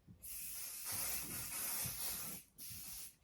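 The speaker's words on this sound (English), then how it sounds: "I'm going to grab some 505 spray" Short bursts of 505 adhesive spray hiss from an aerosol can onto embroidery stabilizer. The close, steady hiss comes in two bursts separated by a brief pause.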